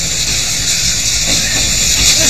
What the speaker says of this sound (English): a journey that began by train.